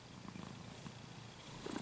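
A kitten named Garfield purrs softly while curled on a person's lap, a faint, steady low rumble that runs without a break and swells slightly near the end.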